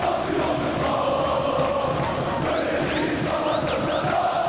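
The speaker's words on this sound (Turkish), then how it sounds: "Golden sonra tezahürat giriyor." A large stadium crowd in the FC 25 football video game chants and roars continuously after a goal, a dense wall of voices with whistles rising above it.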